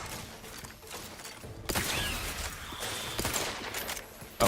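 Gunfire from the companion Valerie in the video game The Outer Worlds 2, a rapid burst of dense shots erupting after a quieter stretch and continuing with mechanical clatter, fairly loud and without speech.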